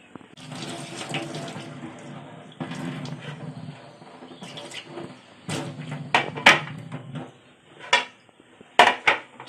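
Tap water runs into a sink while Valanki fish is cleaned for a Godavari-style fry, with splashing and a few sharp clinks of dishes and cutlery near the end, close and moderately loud.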